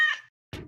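A short cat meow sounds on a radio broadcast: a bright tonal cry, then a brief gap and a second rougher, noisier call, both quick and close.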